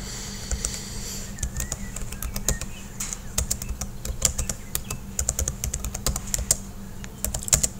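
Computer keyboard typing a sentence into a word processor, a steady run of close, crisp key clicks in uneven bursts over a low background hum.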